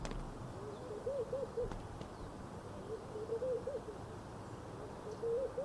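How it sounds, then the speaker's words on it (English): An owl-like bird hoots softly in a video game's suburban ambience, giving short repeated calls in loose groups of two or three, faint and distant over a steady low background hum. "What is this bird sound that I'm hearing in the, like the ambient? Is it like an owl or something?"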